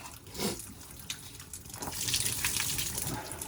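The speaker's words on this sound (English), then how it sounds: "we got some water in there. We're going to let it drain." Water gushes and trickles steadily while a boiler system drains down after a faulty B&G 100 Series three-piece circulator pump is pulled, swelling louder toward the end with no talk.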